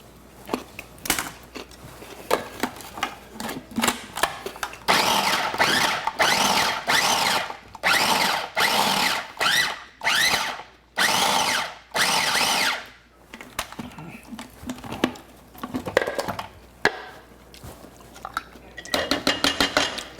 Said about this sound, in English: Put them into the little processor.